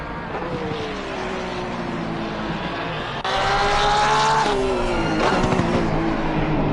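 A GT3 race car lapping the Barcelona Grand Prix circuit in a sim racing game, the engine steady then jumping louder and higher after a gear change, with pitch rising and dropping through corners.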